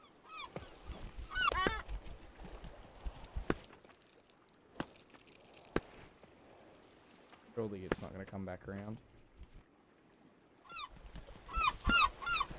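A goose-like bird in the video game Peaks of Yore honks in loud bursts spread through the scene, with someone talking in between and clattering and rustling around the calls.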